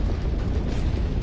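A Russian T-90M tank explodes after an FPV drone strike near a settlement in Donetsk, a dense, continuous low rumbling roar of burning and blasts, loud and unbroken.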